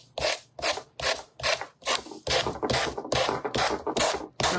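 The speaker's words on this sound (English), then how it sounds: "let's sand off our excess" Sanding off excess material from a book cover being made over with a snowman design, in about ten rhythmic back-and-forth rasping strokes, close and steady with brief pauses between them.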